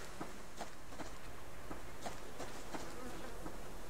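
A steady, low buzzing of bees in the survival game Subsistence hums continuously at moderate distance, with soft footstep-like taps breaking through now and then.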